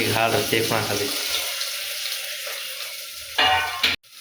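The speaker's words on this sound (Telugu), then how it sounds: "ఇట్లా లైట్ ఎల్లో కలర్ వచ్చేదాకా మనం మంచిగా ఫ్రై చేసుకుందాం" Ginger garlic paste frying in a pan, a steady close sizzle running for several seconds, with a voice speaking briefly before and after.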